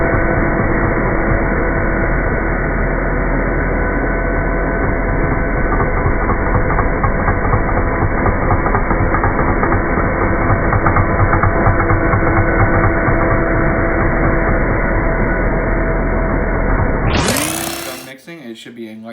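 Electric mixer whirring steadily while beating a gelato base of sugar in a bowl, a loud continuous motor drone with a harmonic whine that runs unbroken for about seventeen seconds before abruptly cutting off.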